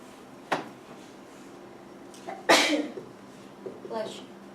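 A single sharp sneeze bursts out in a classroom during a subnetting lecture, with quieter speech before and after.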